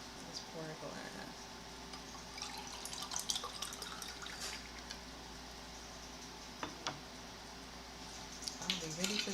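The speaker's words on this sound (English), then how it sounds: "Let's pour a glass." Liquid being poured into a glass at home, a light trickling and splashing run with faint clinks, fairly close, under a steady background hum.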